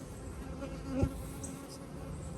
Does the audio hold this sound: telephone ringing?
no